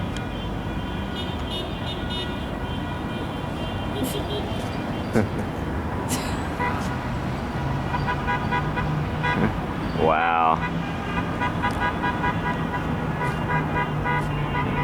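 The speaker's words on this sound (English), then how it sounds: "One car is still stuck back there and still honking." Car horns honking in a street in Ushuaia, Argentina, as cars decorated with balloons pass, short toots and a longer blare over steady traffic noise, with a person briefly speaking.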